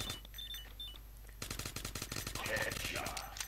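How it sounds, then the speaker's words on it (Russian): Rapid automatic rifle fire in the mobile shooter game Stickman and Gun 2, a fast burst of gunshots that starts after a quiet opening second, with game beeps mixed in. "С автомата стрелять намного легче."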